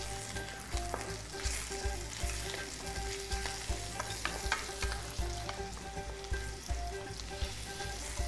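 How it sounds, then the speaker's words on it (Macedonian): Chopped onion fries steadily in a pan for stuffed chard-leaf sarma, giving a continuous close sizzle and crackle with faint stirring scrapes and no talk throughout. "Додека се пржи кромидот, си го подготвиме морковот и меленото месо."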